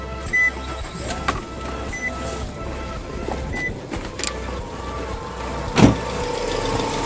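Car engine running low on oil with Marvel Mystery Oil added, a steady low idle rumble with faint ticking and a couple of brief louder knocks, heard alone without talk.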